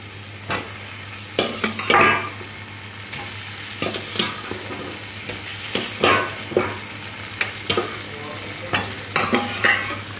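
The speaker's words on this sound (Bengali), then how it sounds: "আলুগুলো মশলার সাথে আর একটু কষে নিতে হবে।" Fried potatoes stirred and sautéed with spice paste and a little sugar in a pan for a Bengali katla fish curry with potatoes, with steady sizzling and repeated scraping strokes of a spoon against the pan.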